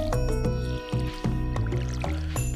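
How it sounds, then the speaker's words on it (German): A watering can waters crops in the Stardew Valley video game, with quick repeated liquid splashes and drips heard over steady game music. "Schnell mal gießen."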